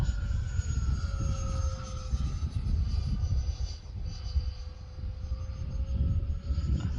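Freewing Stinger 64mm EDF jet RC airplane flying past in the wind, a steady broadband rushing whoosh with a faint high whine holding throughout, moderately distant and unbroken.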